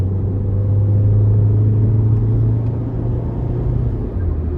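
A 2006 Nissan Sentra 1.8S engine pulls under acceleration, giving a steady, loud low rumble and drone with a faint whir above it, heard from inside the car with no talking.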